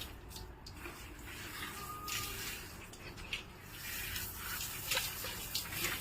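Water rinsing shampoo off a dog's coat during a bath, a soft splashing trickle with drips and faint spraying bursts that rise and fall unevenly.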